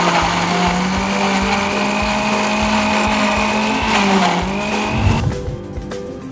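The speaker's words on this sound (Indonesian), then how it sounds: "blender mangga" A blender whirs as it blends mango for a layered fruit drink, its loud, steady motor running continuously, then dropping and shifting pitch near the end as the load changes.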